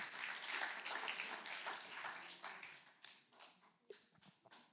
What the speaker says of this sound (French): Et j'aimerais entendre un grand applaudissement.